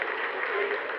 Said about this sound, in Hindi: Lot of applause indicates that till now the performance has been nominal.